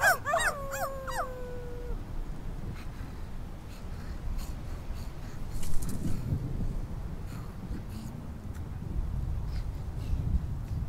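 Cartoonish dogs in the video game My Friendly Neighborhood let out several quick rising whimpering howls at the start, then fall quiet. A low rumbling ambience and scattered soft clicks continue through the rest.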